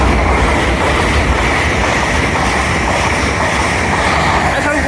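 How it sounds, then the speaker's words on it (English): An LNER Azuma train from London King's Cross to Aberdeen passes through Newark Northgate station on the East Coast Main Line, a loud, close, continuous rush and rumble of wheels on track. "Pass through now is another LNER Azuma from London King's Cross to Aberdeen."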